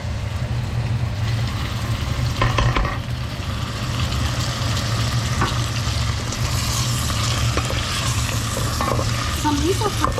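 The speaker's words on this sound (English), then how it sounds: "Then we're gonna add in our crushed" Crushed garlic sizzles and fries steadily in a pot of oil for pilau, with occasional stirring scrapes over a constant dense hiss and a low hum in the background.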